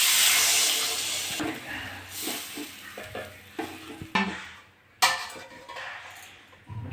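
Water poured into a pan of potatoes and spices frying for a potato and katapona fish curry, a bright hiss that fades to bubbling sizzle, with scraping stirs and clinks of a spoon on metal.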